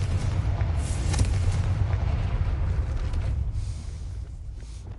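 A Confringo fire spell bursts in the Hogwarts Legacy game, giving a loud, rumbling blast with a heavy low-end roar that fades slowly over several seconds, with no talk.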